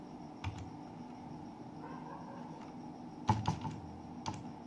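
Someone types code on a computer keyboard with light, sparse key clicks: a few isolated taps, then a brief cluster of louder strokes, heard close in a quiet room.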